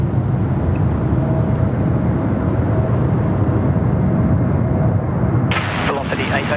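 A Jetstar Airbus A321neo on short final for runway 34 right at Sydney Airport makes a loud, steady engine roar mixed with wind rumble, with a brief sharper burst near the end.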